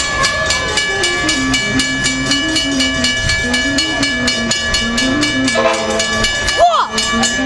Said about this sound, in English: Here comes Amtrak train number 573. As you can see, here it is coming in right now.